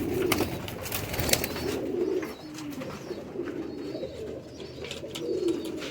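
Pigeons coo repeatedly, soft throaty burbling calls close by in a loft full of young flying pigeons, with occasional wing flaps and other rustling noises around them.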